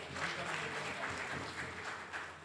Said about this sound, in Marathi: सगळ्यांच्या जरा जोरदार टाळ्या झाल्या पाहिजे